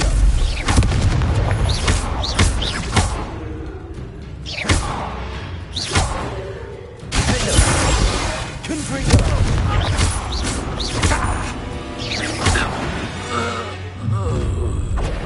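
Confringo blasting spells in Hogwarts Legacy set off repeated booming explosions with heavy thuds and whooshes, loud and close, layered over game voices and a dense battle soundscape.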